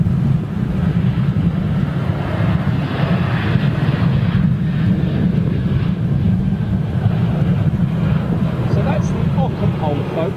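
An Airbus A330 airliner arrives at London Heathrow on a windy day, its engines a steady low roar under heavy wind buffeting on the microphone, with faint voices in the background.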